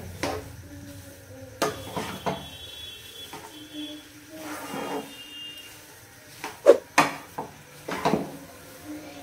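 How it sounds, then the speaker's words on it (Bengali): A spoon scrapes and clinks against a pan while chana dal halua is stirred, giving intermittent sharp metallic knocks and scraping strokes in a quiet kitchen, with no talk. "এভাবে আমি আরেকটু নাড়িয়ে নেব।"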